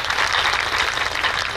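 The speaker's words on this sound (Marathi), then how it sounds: "त्यांच्यासाठी एकदा टाळ्या वाजवा." Audience at a Marathi kirtan memorial gathering breaks into sustained applause, a dense continuous wash of many hands clapping, steady and fairly loud throughout with no voices over it.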